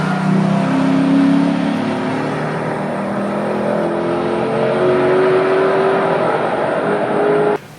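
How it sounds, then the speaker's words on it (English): A Toyota car with a big V8 engine revs hard, its deep growl climbing in pitch through several rising sweeps, loud and close, before cutting off abruptly at the end. "it sounds like a big V8"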